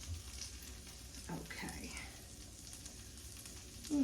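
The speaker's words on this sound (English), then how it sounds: "Hear that sizzle? Sizzle, sizzle." Onions softening in a frying pan for a cauliflower and lentil curry sizzle in a steady low hiss, with a brief stir and a short spoken word from the cook.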